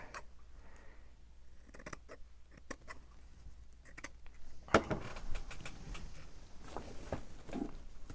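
Scissors snip paper for a handmade tag in a few quiet, separate cuts at close range, with light handling rustles between them and no talk.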